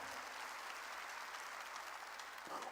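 A church congregation claps together in a sustained burst of applause during a sermon, dense and even throughout.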